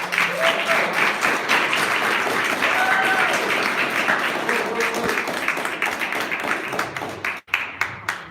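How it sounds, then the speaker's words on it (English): Audience applause after a reading at a poetry month closing reception in a museum, a dense, lively burst of clapping that holds steady, then thins and breaks off near the end. "Give him another round of applause."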